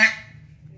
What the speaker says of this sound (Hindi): नर यानी बतख है, डक है